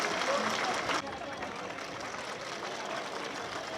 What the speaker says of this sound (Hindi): जोरदार तालियों से इनका स्वागत हो